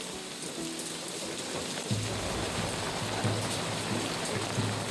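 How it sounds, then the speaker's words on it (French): Light drizzle patters steadily on a surface in the Lozère countryside, a dense, even hiss of fine rain with a faint low rumble underneath and no voices. "l'après-midi commençait plutôt mal avec ce petit crachin lozérien."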